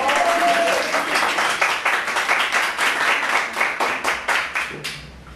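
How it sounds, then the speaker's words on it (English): Studio audience at a TV talk show applauding steadily for about five seconds, dense clapping with rhythmic swells that fades out at the end. "Applause."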